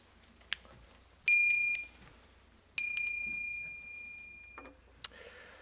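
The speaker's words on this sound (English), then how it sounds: "I rang that bell" A bell struck twice, each ring a bright metallic clang that decays over about a second, with a few small clicks before, between and after; clear and close in a quiet room.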